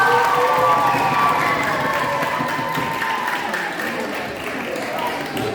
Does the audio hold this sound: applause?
yes